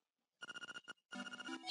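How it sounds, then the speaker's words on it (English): Electronic telephone ring from the Game Boy Color game The Legend of Zelda: Link's Awakening DX, two bursts of rapid beeping tones separated by a short gap, clear and alone. "The phone say, bring, bring."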